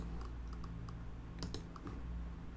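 Typing on a computer keyboard during a live trading coaching session, with scattered key clicks and a brief quick burst of keystrokes, fairly quiet and close with no talking.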